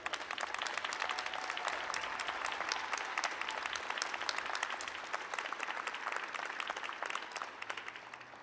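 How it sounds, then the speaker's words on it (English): A crowd applauds steadily at a college commencement ceremony, dense clapping that goes on for several seconds in a large room and fades slightly toward the end. "please stand so that we can give you a round of applause for your support."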